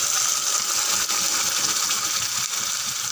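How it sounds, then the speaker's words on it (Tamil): A steady, full rush of water pouring into a mixer grinder jar without a break, bright and hissy, close by and continuing for the whole stretch. "தண்ணி விட கொடுத்து இந்த ஜாரில் மட்டும் கொஞ்சமாக விட்டு சேர்த்துடலாம்"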